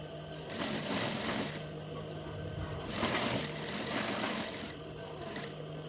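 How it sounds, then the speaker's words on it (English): A sewing machine stitches around the curved edges of a shirt collar, its fast needle chatter running in short bursts that swell and pause, close and fairly quiet, with no talking. "So this is the second curved edge that I'm sewing around"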